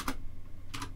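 Keystrokes on a computer keyboard while a buffer name is typed in the Emacs text editor: two short clusters of crisp, close clicky taps, one near the start and one near the end, with quiet between.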